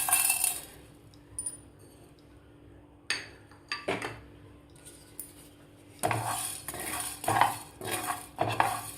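Whole coriander seeds, black peppercorns, cloves and a cinnamon piece dry-roast in a pan, with intermittent scraping, rattling and clinking of a utensil against metal that turns louder and busier in the second half; no one speaks.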